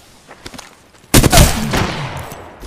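Gunfire in the Apex Legends video game: a few faint distant shots, then a sudden loud close burst of automatic fire that rings out and trails off.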